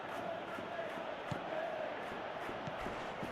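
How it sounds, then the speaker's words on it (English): A stadium crowd in a PS3 football video game roars steadily in the background, a broad, continuous wash of cheering with faint surges, heard from a distance. "you can feel and hear how the crowd are reacting to all of this"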